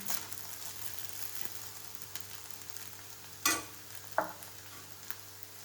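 Sabudana khichdi with peanut powder stir-fried in a pan: a faint, steady sizzle with two sharp spatula scrapes near the end.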